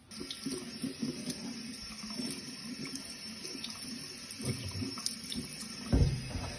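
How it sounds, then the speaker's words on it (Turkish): Tap water pours steadily from a faucet onto a Jack Wolfskin Vojo Tour Texapore Low shoe during a waterproofing test, a continuous close splashing stream with small bumps as it hits the shoe. "Şimdi bir musluk test yapalım."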